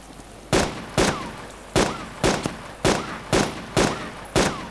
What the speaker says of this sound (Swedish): jag skjuter ett skott i huvudet på honom